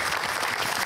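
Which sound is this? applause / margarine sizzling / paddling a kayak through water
applause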